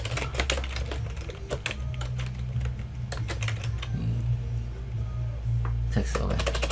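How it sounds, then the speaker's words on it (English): Rapid clicking of a computer keyboard as an address is typed, a steady stream of close keystrokes with brief pauses and a few louder taps, while someone talks over it. "So I'm gonna type in the address 507 Olive Trail."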